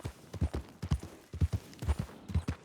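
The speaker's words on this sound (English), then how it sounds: "Oh, well, there's her horse." A horse walks with hooves clip-clopping in a steady, repeating rhythm of paired strikes, moderately close and fairly soft.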